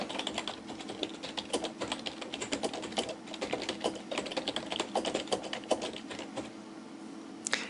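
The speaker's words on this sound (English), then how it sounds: "And I type my log entry." Quick, uneven clatter of a computer keyboard as a log entry is typed, close and continuous, with no one talking.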